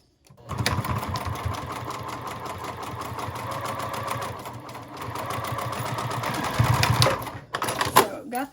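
A home sewing machine bastes the lining of a small ID wallet, its rapid mechanical stitching close and steady for several seconds before slowing and stopping in short bursts near the end.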